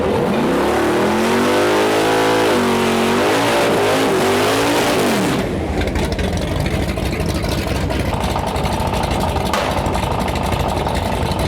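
A Mustang launches hard at a no prep drag race in Western Canada, a loud rising engine roar with harmonics sweeping up through the gears for about five seconds, then a distant broad rumble and crowd-like noise as the car pulls away.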